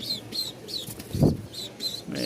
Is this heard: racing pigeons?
yes